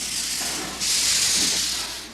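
A 1900 American-built Baldwin steam locomotive begins its climb from sea level into the Andes, giving off a loud, steady hiss of steam that surges and stays bright, with faint low chuffing beneath.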